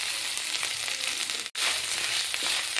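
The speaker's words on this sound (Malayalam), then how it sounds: "തേങ്ങയിൽ നല്ല ഗോൾഡൻ ബ്രൗൺ കളർ ആവുന്നതുവരെ നമുക്ക് ഇങ്ങനെ ഇളക്കി കൊടുക്കാം" Grated coconut fries in coconut oil with a continuous close sizzle while being stirred, spoon scrapes rising through the hiss and one abrupt brief dropout midway.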